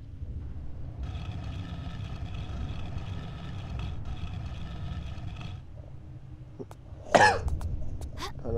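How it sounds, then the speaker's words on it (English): Person coughing close by, a single sharp cough burst near the end over a steady low background hum from a video game. "I don't know why I'm coughing a lot"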